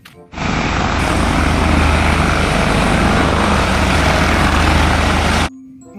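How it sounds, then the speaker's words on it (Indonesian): A toy helicopter emits a loud, steady electronic rotor-and-engine roar that starts suddenly, holds constant for about five seconds, then stops abruptly, close to the listener. "Helikopter."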